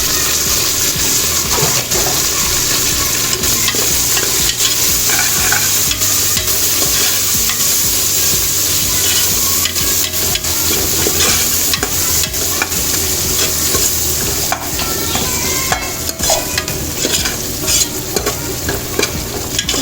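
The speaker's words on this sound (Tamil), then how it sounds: "எண்ணெயில் நல்ல இந்த கொத்தமல்லி புதினா பத்து செகண்ட் வதக்கிட்டு" Coriander and mint sizzle loudly in hot oil while being stirred in a pot during chicken biryani preparation, a dense, continuous frying hiss with scraping stir sounds and no voices.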